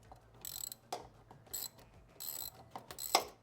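A ratchet clicks in short bursts as bolts are snugged down during a turbo install on a BMW E46, quiet and close, with pauses between strokes and a sharper metallic tap near the end.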